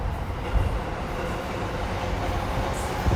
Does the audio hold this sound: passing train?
yes